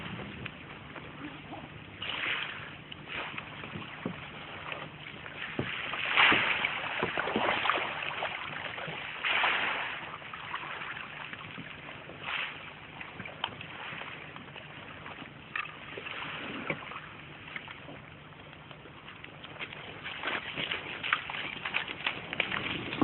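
A rubber boat carries a combat reconnaissance team of Indonesian army soldiers (Kostrad) onto a shore during a 2001 exercise. Steady water splashing and sloshing continue throughout, with rustling and scraping on a muffled, low-fidelity recording.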